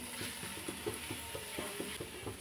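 Fried vegetables and boiled vermicelli are stirred in a pan, giving a soft, close run of rhythmic scraping strokes over a faint, steady sizzle, with no one talking.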